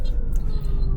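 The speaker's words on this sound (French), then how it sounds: "Les ambulances." An ambulance siren sounds in Accra street traffic, a steady loud wailing tone over a heavy rumble of city noise, with no talking.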